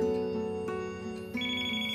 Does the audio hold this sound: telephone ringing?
yes